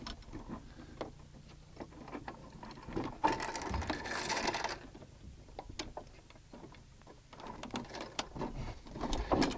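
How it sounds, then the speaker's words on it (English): Small metal latch clips being undone on the concentrator tray of a dry washer used for gold prospecting, giving scattered clicks and rattles with a louder burst of scraping in the middle and no speech. "we simply just undo these little clips right here"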